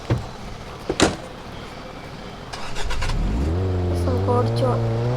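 Faint knocks and a door thud come first, then a car engine fires up and revs with a rising, steady drone that fills the second half close by.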